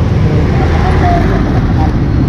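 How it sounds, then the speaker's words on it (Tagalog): Constant roar of vehicles passing along Road 10, a busy roadway, heard up close and loud as a steady wash of traffic noise without pauses. "So medyo maingay lang dito sa mga hibi ng sasakyan na dumadaan dito no, sa road 10."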